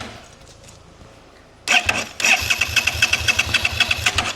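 Broken motorbike engine cranks over with the throttle held open, a starter whir then a rapid, uneven chugging as it catches and runs rough and close, no talk.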